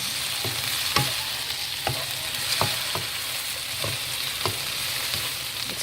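Ladies finger stir-fried with tamarind in a pan sizzles steadily and loudly, with a spatula scraping and tapping the pan at regular intervals, close up and with no talking.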